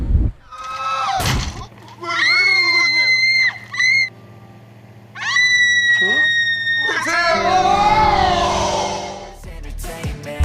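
A woman screams in a dramatic scene from the Korean film Tazza 2, with loud, high-pitched cries and wails rising and falling in several bursts over about ten seconds.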